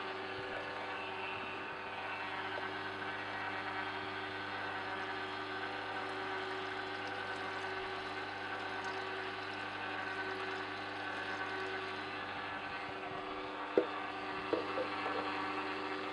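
A Sana Horeca EUJ-909 juicer runs with water poured in for cleaning, its rubber blades scrubbing inside, giving a steady, even motor hum with a few small knocks near the end.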